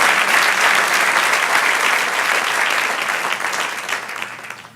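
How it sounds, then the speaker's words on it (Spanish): Loud, dense applause from a church congregation honoring the Lord in a Spanish-language service, a continuous crowd of clapping hands that gradually tapers off toward the end. "Dale un aplauso al Señor."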